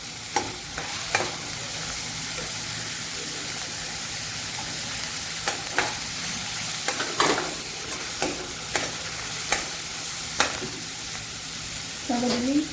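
Chopped tomatoes and green chillies frying in hot oil for dhaba-style dal tadka, a loud continuous sizzle broken by occasional clacks and scrapes of a spoon against the pan, with no voices.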